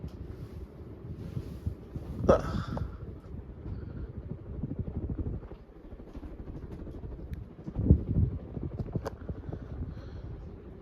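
A 52-inch 1990 Hampton Bay Windward ceiling fan running on high speed gives off a steady rushing whoosh of moving air with a low rhythmic buffeting. The sound is close and moderately loud, with a couple of brief louder surges.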